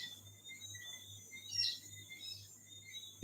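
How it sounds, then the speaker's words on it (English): Small birds chirp outside by a feeder in Jamaica, giving faint, scattered high tweets over a steady low hum, fairly distant and quiet with no talk. "You hear the birds?"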